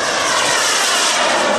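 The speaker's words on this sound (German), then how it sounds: "The second jet in the air" A large RC trainer model jet driven by a JP120 EDF-12S electric ducted fan flies past at a jet demo fair, giving a loud, steady, airy turbine roar and whine with no talk.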